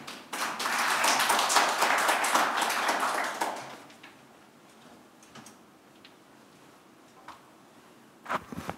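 Audience at a Korean policy forum on unification applauding after a speech, a loud burst of clapping for about four seconds that fades to scattered faint claps and taps.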